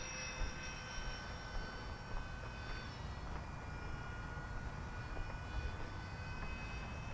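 An RC Airbus A320 model airplane flies at around 60% throttle. Its electric motors give a faint, steady whine with a high tonal hum, and the sound stays constant and distant throughout.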